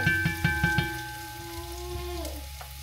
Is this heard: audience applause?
no